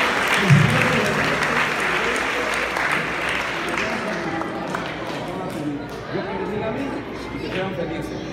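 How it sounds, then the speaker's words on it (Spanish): A wedding congregation in a church claps in praise during the ceremony, a broad wash of many hands with voices and murmuring mixed in, loudest at first and easing slightly toward the end. "Démosle ese aplauso a Cristo el Señor"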